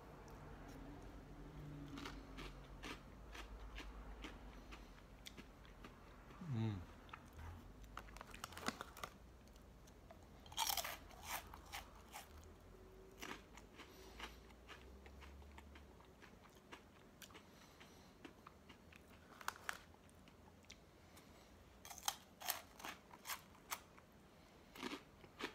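Scones being eaten up close: scattered crisp bites and soft chewing clicks over a long quiet stretch, with a low rustle early on.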